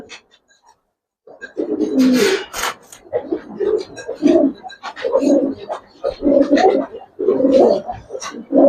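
Old-generation Giribaz pigeons, a male and female pair, coo in repeated low throaty bursts, close and fairly loud, after a brief quiet start.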